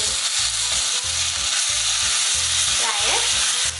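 Ginger garlic paste sizzles and fries in white oil, a steady loud hiss with brief stirring scrapes partway through, close up and without talk.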